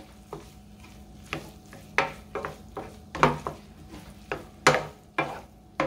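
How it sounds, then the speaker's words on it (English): A spoon stirs a sausage casserole with melting cheese in a pan on low heat, giving about a dozen separate scraping and squelching strokes over a soft, steady sizzle, with no one talking. "So I'm just going to stir this up."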